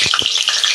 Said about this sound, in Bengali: তেল গরম হয়ে গেছে, আমি আলুগুলো একটু ভেজে নিচ্ছি।